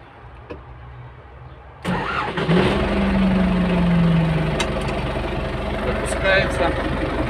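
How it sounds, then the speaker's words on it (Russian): An MTZ 892 tractor's diesel engine cranks and catches after a quiet stretch, then settles into a steady, loud diesel rumble that continues to the end. "Давайте запустим двигатель."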